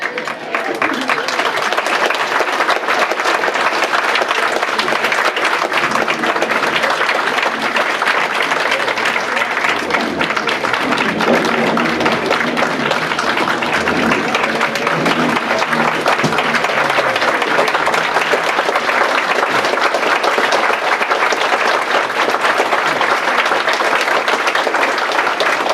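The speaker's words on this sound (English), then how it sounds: "let's give him a round of applause." Sustained, loud applause from a gathered audience at a senior living community celebration fills the room without break, dense clapping with faint voices mixed underneath.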